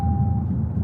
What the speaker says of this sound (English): so my car's gonna beep at me when I look left and right. You'll hear beeps from time to time.